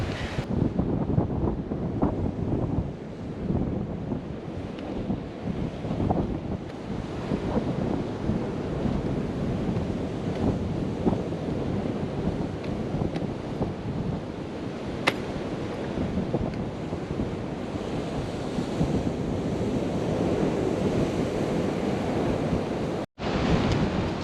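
Surf rolls in continuously on Ruby Beach in Pondicherry, a dense, loud wash of breaking waves with steady wind buffeting the microphone throughout.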